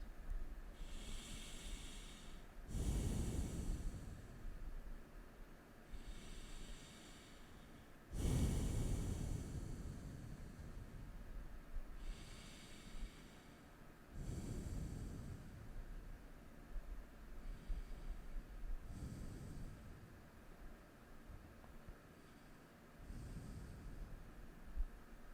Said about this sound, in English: Continue to deepen your breath.